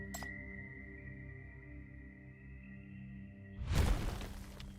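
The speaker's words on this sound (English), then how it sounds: "The nightmare smashes a wall." A wall smashed apart by a nightmare creature in the video game Path to Nowhere: a sudden, loud crashing burst erupts near the end over a steady droning game soundtrack, with no talking.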